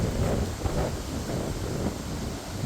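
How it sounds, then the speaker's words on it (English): Strong wind buffets a microphone on the deck of a Norwegian Bliss cruise ship moving fast on an Alaska sailing, a steady, loud roar with low rumbling gusts and no voices. "the wind is pretty strong"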